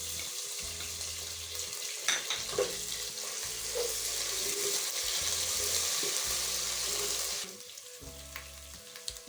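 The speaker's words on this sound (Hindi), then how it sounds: "अब हम इसके अंदर अदरक लहसुन मैंने पीस के रखा था, वो मैं इसमें ऐड कर रही हूँ।" Ginger garlic paste sizzles as it fries with browned onions in a pan. The hiss is continuous and fairly close, with occasional stirring scrapes, and there is no talking.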